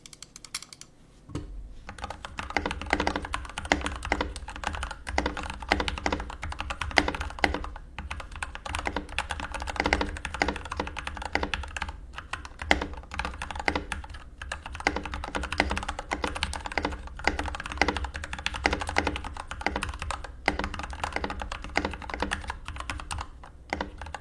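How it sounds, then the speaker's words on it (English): Steady typing on a mechanical keyboard fitted with a new keycap set, a dense, continuous run of close, crisp keystrokes lasting over twenty seconds with no talking. "Do I dare say it's time for a typing test?"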